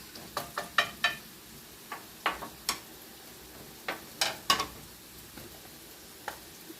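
Rice stirred with a utensil in a pot, a scattered run of sharp scraping ticks and clinks, up close with soft frying in the background and no voices.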